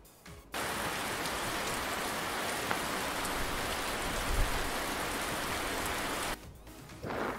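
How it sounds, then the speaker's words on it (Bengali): Steady rain falls continuously as a dense, even hiss of drops on surfaces, starting abruptly after a brief quiet moment and cutting off near the end. "ছাতা মাথায় বৃষ্টি পড়ে।"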